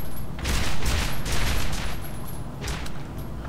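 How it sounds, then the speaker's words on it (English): A burst machine pistol fires in Borderlands, sending rapid bursts of gunfire that blur into a continuous rattling barrage at moderate loudness. "I got a burst machine pistol"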